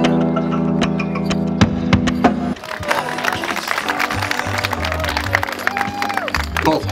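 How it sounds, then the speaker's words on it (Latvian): An award ceremony at the Mītava Open 2012 final, where a crowd breaks into sustained applause and cheering, loud and close, with the clapping continuing under a voice and background music. "Aplaus"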